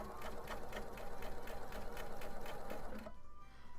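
A domestic sewing machine stitches fabric in a fast, steady run of mechanical pulses, loud and close, stopping abruptly near the end as the bobbin thread runs out, leaving a quiet room.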